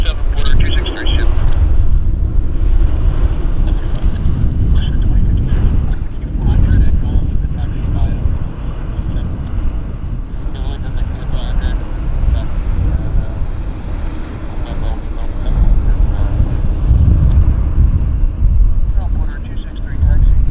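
A Boeing 777 airliner touching down on runway 26 right at Vancouver Airport, heard as a loud, sustained low engine roar with rumbling wind noise throughout, mixed with faint air traffic control radio chatter.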